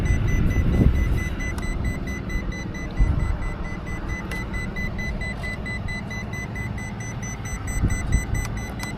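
An electronic device gives a low-voltage warning as a thin, faint, repeating beep that sits under a steady background rumble and occasional knocks.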